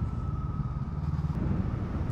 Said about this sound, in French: Et le moteur, il ronronne